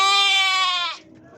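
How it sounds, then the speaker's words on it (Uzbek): A sheep at a livestock market gives one loud, close, wavering bleat lasting about a second, then faint market background remains. "Chiroyli qo'ylar ekan."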